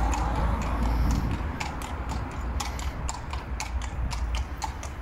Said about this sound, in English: Is that a wee horse?